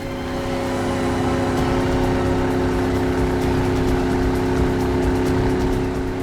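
A motorboat engine runs steadily on open water, a loud, continuous drone that holds at a constant level throughout, with no voices.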